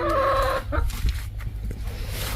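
A hen clucks and squawks close by in the opening moments, followed by farmyard rustling and low background noise.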